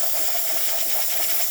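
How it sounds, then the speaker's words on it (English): A Saeco Intelia espresso machine, freshly serviced, releases a steady, loud hiss of steam through its valve, continuous and close with a faint pulsing texture and no talk. "nice steady steam coming out of the machine"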